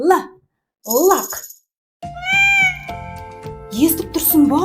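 A cat meows in two short bursts, then a playful musical jingle plays with more meowing over it, bright and close in a children's learning setting.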